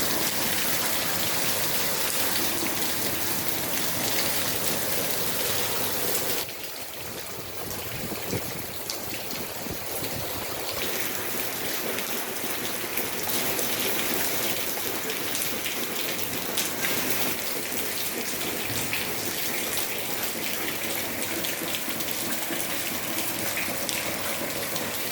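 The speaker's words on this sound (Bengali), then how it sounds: "বন্ধুরা দেখতে পাচ্ছেন বাইরে অনেক বৃষ্টি" Heavy rain pours steadily outside a shop during flooding, a dense continuous hiss that eases briefly partway through, then resumes at full strength with no voices.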